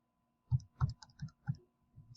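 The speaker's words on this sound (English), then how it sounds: "I'm typing pretty quickly." Keys on a computer keyboard click in a quick, uneven run of about half a dozen taps, faint and close with no voice.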